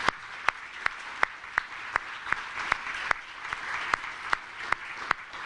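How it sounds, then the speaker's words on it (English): Audience clapping at a county budget announcement, a soft wash of hands under distinct, evenly spaced sharp claps that tick along steadily for several seconds. "Let's give them all a round of applause"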